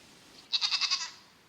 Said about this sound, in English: there's an actual goat